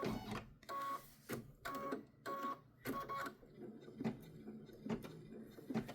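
An embroidery machine stitching design elements onto a luggage tag runs in repeated rhythmic bursts of buzzing and clacking, each about half a second, with short pauses between, close and fairly quiet.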